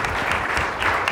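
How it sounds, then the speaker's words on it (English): Conference audience applauding at a craft beer event in San Francisco, a dense steady clatter of many hands clapping throughout, fairly close and uninterrupted. "Round of applause for Troy and the people that work with him."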